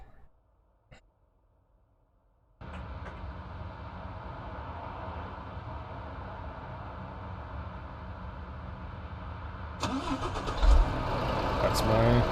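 A truck engine starting in Euro Truck Simulator 2: after a near-silent moment with a few clicks, the engine abruptly cranks and settles into a loud steady idle, and a brief knock and rising rumble follow near the end.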